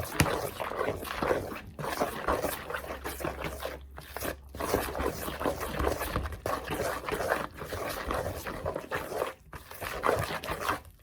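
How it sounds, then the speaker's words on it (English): Corn fritter batter with salt is mixed by hand using a whisk or spoon. A busy, continuous wet stirring and scraping goes on close up at moderate volume, with an uneven rhythm and no talking. "we're going to mix all this together with either a whisk or a spoon"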